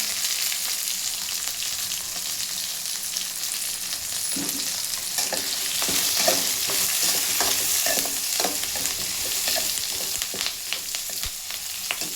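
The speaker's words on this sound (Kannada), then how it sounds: "ಬೆಳ್ಳುಳ್ಳಿ ಫ್ರೈ ಮಾಡೋಕ್ಕೆ ಹಾಕ್ತಿದ್ದೀನಿ ಫ್ರೆಂಡ್" Garlic frying in a pan, heard as a loud, continuous sizzle and crackle with stirring and scraping strokes growing busier through the middle, close up and with no voices.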